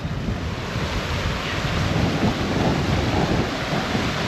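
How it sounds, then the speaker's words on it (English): A waterfall and flowing river in a storm roar as a continuous loud broadband rush, with wind noise buffeting the microphone and no voices. "this waterfall is mad"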